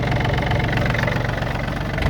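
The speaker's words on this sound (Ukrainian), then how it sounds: "Але приємний звук мотора." A Yanmar F235 tractor's diesel engine runs steadily at idle, a close, continuous low rumble with a faint knocking throb and no voices.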